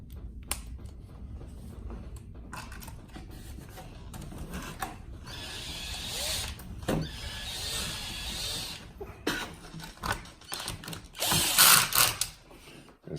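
Brace screws come out of the underside of a Losi 8ight RC car, with irregular small clicks, ratcheting and scraping handling noises, close and fairly quiet, without talk.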